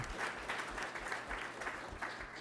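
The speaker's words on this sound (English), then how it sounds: "So everybody, please, if you'll join me and give them a round of applause." Applause for panelists at a climate and national security forum, an even, moderately quiet wash of clapping from a seated audience that holds steady throughout.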